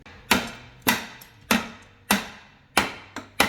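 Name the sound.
hammering a snapped mount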